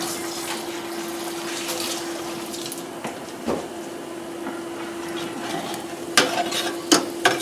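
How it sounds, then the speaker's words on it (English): Butter melting in a pan on a stove sizzles with a steady soft hiss and a faint hum, broken by a few clinks and scrapes toward the end, with no talk. "let me get this butter melted"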